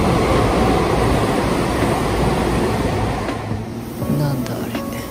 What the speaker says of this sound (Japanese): 次の電車は通過だって